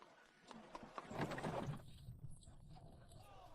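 Hooves of a horse pulling a carriage clop in a short, uneven burst, moderately loud, then the steps fade into ambient noise.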